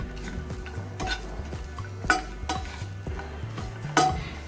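Dry coconut roasting in a pan over low heat for garlic chutney, a spoon or spatula scraping and stirring in a regular rhythm with metallic clinks and a light sizzle underneath, close and clear with no talking.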